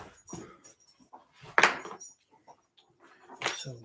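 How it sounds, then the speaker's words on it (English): Dog tearing at its bed, scattered close scuffling and ripping noises with soft thumps and a few sharper bursts in a quiet room. "the dog's destroying her bed"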